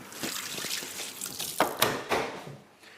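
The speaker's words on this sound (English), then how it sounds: "Now wash your hands." Hands are washed under running water in a kitchen, with a steady close trickle and splashing broken by a few louder sloshes as the hands move through the stream, and no talking.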